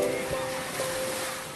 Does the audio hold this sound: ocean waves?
yes